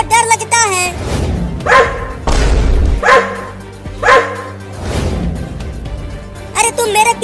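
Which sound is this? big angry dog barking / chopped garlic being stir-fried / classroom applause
big angry dog barking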